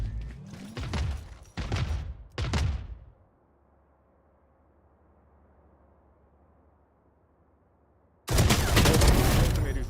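A missile barrage fires in the video game Valorant, with three loud booming blasts in quick succession, then a quiet lull before another heavy sustained blast.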